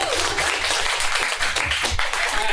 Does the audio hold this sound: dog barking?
no